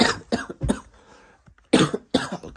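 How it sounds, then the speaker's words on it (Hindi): Someone with a fever and mild illness coughs in short, sharp bursts, a few close coughs in quick succession, a pause with faint breathing, then two more coughs, near and clear. "खांसी भी है"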